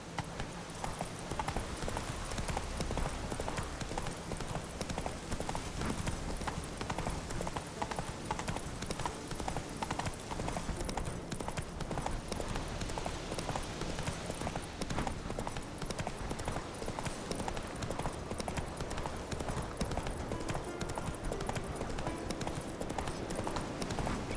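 Hooves of Roach, a horse in The Witcher 3 game, clip-clop steadily and continuously at a brisk gait, close and even throughout, with a faint voice briefly underneath.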